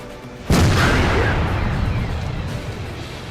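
In the World of Tanks video game, a tank shell, from an AMX AC-48, bounces off an E100's armor: one sudden loud metallic crack and boom, followed by a long rumbling decay.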